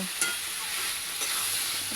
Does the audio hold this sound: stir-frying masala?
yes